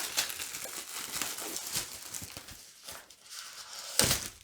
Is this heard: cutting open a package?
yes